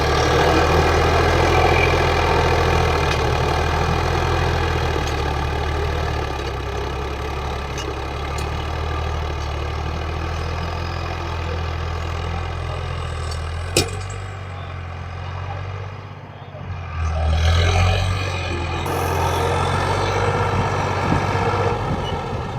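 An Arjun tractor engine runs steadily while its trolley is loaded with sand. The close, continuous low idle drone lasts throughout, with a brief dip and a surge near the end.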